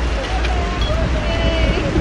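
Wind gusts across the open deck of a yacht at sea, a steady loud rush with low rumble throughout, and voices chatter faintly underneath.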